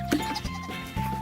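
Goats bleat on a farm, a short nasal cry up close followed by a few more bleats, with steady livestock noise in the background.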